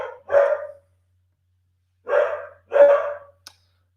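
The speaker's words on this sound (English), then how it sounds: "so obviously Dakota, our CEO, is barking in the background." A dog barks in three short bursts indoors in a home office, each bark loud and close with pauses between, and a faint click near the end.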